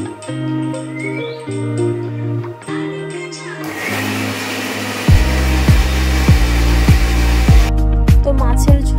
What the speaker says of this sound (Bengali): তো চলো মশলাটা একটু পেস্ট করে নিই।